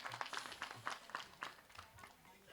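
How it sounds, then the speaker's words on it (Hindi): Scattered, faint clapping from a village gathering applauding its sons, uneven and thin, with a voice talking over it. "ऐसा ने गांव के सपूत मन पर एक बार जमदार ताली होना चाहिए।"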